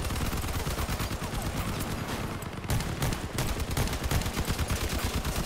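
Rapid gunfire from a vehicle-mounted gun in the post-apocalyptic combat game Crossout, a dense, loud, continuous burst of shots with a brief dip midway before firing resumes.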